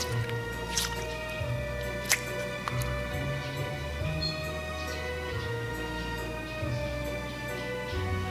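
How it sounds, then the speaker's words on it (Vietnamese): Thick, glossy clear slime with a cherry scent is squeezed and worked into bubbles, giving repeated wet squishy pops and crisp clicking crackles, close and steady, with a few sharper snaps. "Khi mà chúng ta tạo bong bóng thì sẽ tạo được tiếng kêu rất là to"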